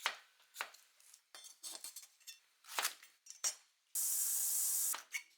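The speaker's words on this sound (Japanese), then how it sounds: "人参もすぐに火が通るように斜め薄切り。" A kitchen knife slices carrots diagonally into thin pieces on a cutting board, with a series of crisp, close chopping taps followed by a brief spray hiss.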